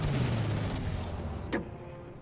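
Aircraft strafing gunfire in the WWII strategy game Panzer Corps Gold, a dense rattling burst with a sharp crack partway through, steady and fairly loud throughout.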